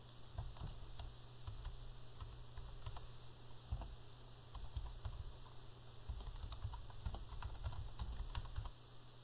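A password is typed on a computer keyboard with quiet, close, irregular key clicks that run steadily throughout, with no talking.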